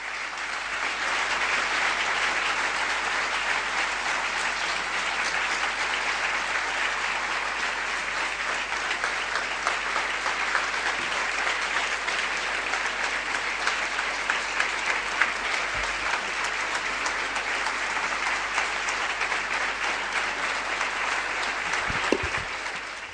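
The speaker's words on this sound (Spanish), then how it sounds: "Estos aplausos son para Virgen María y para Dios, no para mí." Sustained applause from a church audience after a testimony, a dense, steady wash of many clapping hands that holds at an even level for over twenty seconds with no voices standing out.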